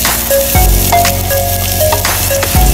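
Garlic fries in a hot pan for sotanghon, producing a loud, continuous close-up sizzle with occasional scraping stirs and clinks over the crackle.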